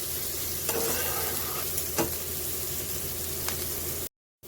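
Tripe (boti) and green chilies fry in a pan, giving a steady broadband sizzle close by, with a few sharp scraping strokes of stirring and a short silent gap near the end.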